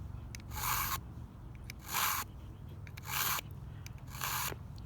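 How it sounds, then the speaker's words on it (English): A dull survival neck knife is drawn through a V sharpener, shaving off metal in four steady, rasping strokes, each about half a second long with short pauses between, heard close and clear. "I run it through the V, cut off some serious metal"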